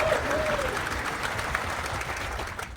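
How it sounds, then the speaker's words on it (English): Audience applause for military families at an event, a steady wash of many hands clapping from a large crowd, with a brief whistle near the start and no clear talking. "I get a huge round of applause for our military families, including husbands, wives, and children"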